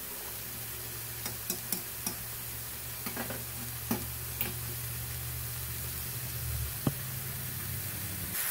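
Flat-iron steaks frying in a pan give off a steady, soft sizzling hiss, broken by scattered light taps and clicks, close by with no talking.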